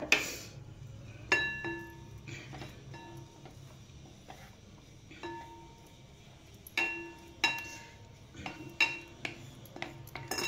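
A spoon stirring roasted grated coconut in a metal pan after the gas is turned off, making irregular light metallic clinks and scrapes with brief ringing, close up against a quiet background.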